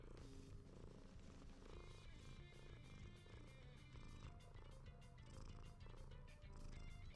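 A fluffy pet cat purring close up, a low continuous rumbling purr with a steady rhythmic pulse, quiet and alone.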